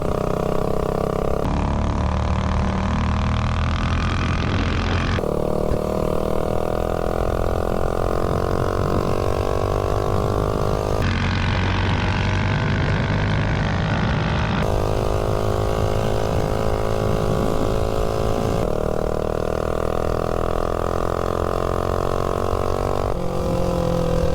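A mini bike engine screams at high RPM in long sustained pulls with a few brief drops in pitch between them, loud and close throughout.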